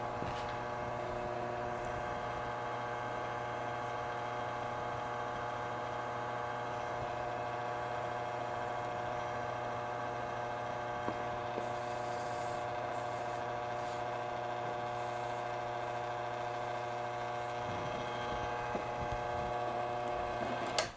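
Loud motor running continuously in a woodworking shop while turning pen blanks, a steady droning hum with constant tonal whine that holds for the whole stretch, with faint rubbing and scraping sounds mixed in and no talking.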